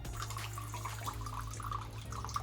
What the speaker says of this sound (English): that's just the sound of water and not the machine